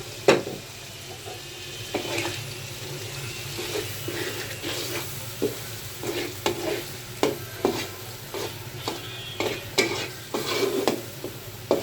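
Shoal fish sautés with ginger paste in a pan, a steady sizzle broken by repeated scraping and clinking strokes of a spatula at an uneven rhythm.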